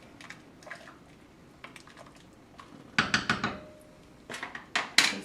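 A spoon stirs lemon chicken soup with barley in a metal pot, giving a run of clinks and scrapes against the sides, loudest in a few bursts toward the end.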